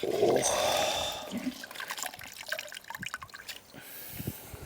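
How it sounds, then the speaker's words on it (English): Wash towel soaked in rinseless wash solution being wrung out by hand, liquid pouring and splattering close up at first, then a run of scattered drips falling back into a bucket. "I'm going to wring it out."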